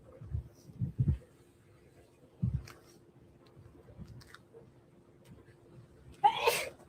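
A single sneeze bursts out near the end, loud and close, after a stretch of quiet low rustling and handling noise.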